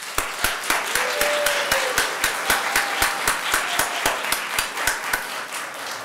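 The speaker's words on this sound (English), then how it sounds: "Finally, a big round of applause for the students who are their school's champion spelling bee." At a district-wide school spelling bee, an audience claps for the school champion spellers, with rhythmic, evenly spaced claps that carry steadily at moderate volume throughout.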